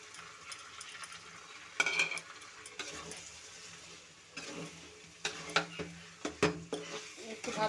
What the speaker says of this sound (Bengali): একটু ভাজা ভাজা করে নামিয়ে ফেলবো।